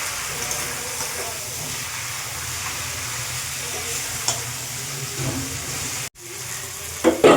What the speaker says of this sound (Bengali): ফোড়ন করে মাছের মাথাগুলোর সঙ্গে মিশিয়ে দিচ্ছি।